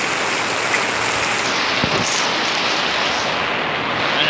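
Heavy outdoor rain pours in a dense, steady hiss that stays loud and unbroken throughout, with a faint thud partway through.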